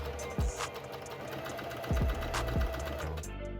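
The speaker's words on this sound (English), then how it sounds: "I then took it to the sewing machine to close it up." A sewing machine hums and whirs close by in a steady run of rapid stitching, with a few short pauses and clunks as it starts and stops.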